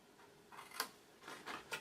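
A few soft, quick snips of scissors cutting paper to trim a large box envelope, faint and close, spaced irregularly with no talk.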